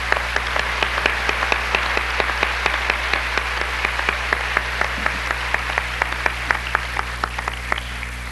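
A church congregation applauds in steady, sharp claps during a sermon on tithes and offerings, the clapping filling the hall at moderate volume over a constant low hum, with no voices on top.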